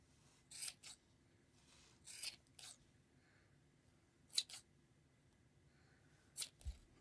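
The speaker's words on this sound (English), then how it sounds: "I just take my scissors and cut those loops" Quiet, crisp snips of scissors cutting yarn, coming in short pairs and clusters with soft pauses between.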